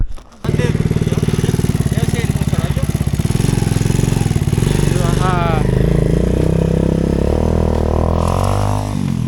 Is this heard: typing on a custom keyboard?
no